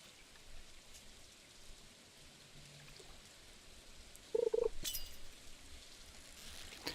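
Rain falling in a fishing video game, a soft, steady hiss of drizzle throughout with a brief brighter splash and clatter midway before the quiet patter resumes.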